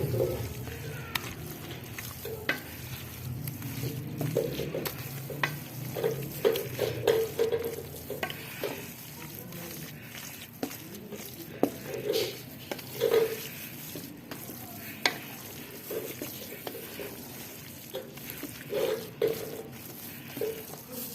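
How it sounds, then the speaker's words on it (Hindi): A spoon stirs carrot halwa with khoya, almonds and green cardamom in a pan, making repeated close scraping strokes over a soft, steady sizzle. "अब हमने इसको अच्छी तरह इसके अंदर मिक्स कर लेना है।"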